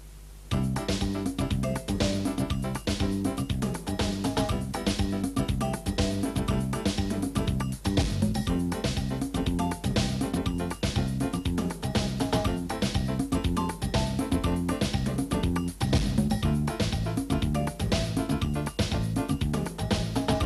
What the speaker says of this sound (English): a typical chord progression might sound like this.